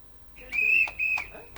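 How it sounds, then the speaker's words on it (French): Shrill whistles blown by striking Atos staff at a workers' protest, a few sharp repeated blasts close by, with faint voices underneath. "Ces coups de sifflet traduisent le mécontentement du personnel Atos"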